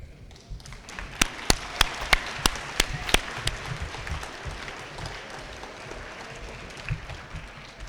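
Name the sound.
audience applause at school awards ceremony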